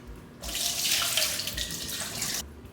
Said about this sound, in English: Then this bowl, I'm gonna get into my sink, cold water.